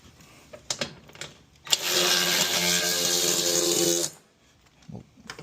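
A powered socket wrench whirs steadily for about two seconds while tightening a fastener during a Tesla upgrade install, with faint clicks and handling sounds before and after.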